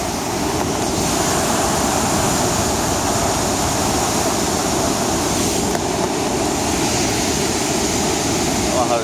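Floodwater roars steadily through a partly open dam at Fanshawe during February flooding, a loud, continuous wash of rushing water heard close and unbroken.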